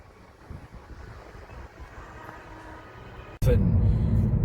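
Strong wind on a seaside in Holland near a ferry harbour is faint at first under a voice, then suddenly roars and buffets the microphone loudly for the last second.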